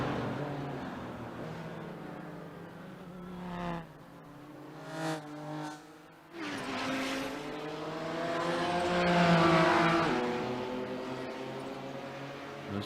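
GT4 race cars running laps at an endurance race on a Virginia circuit, engines droning and shifting pitch as they pass, with a rising roar building toward the end of the stretch.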